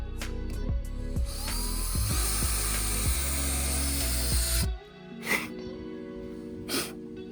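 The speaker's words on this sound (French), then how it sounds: "on est venu fraiser la latte au niveau du point" Drill countersinking a wooden slat, a loud whirring bite lasting about five seconds that stops abruptly, followed by a few short clicks and rustles.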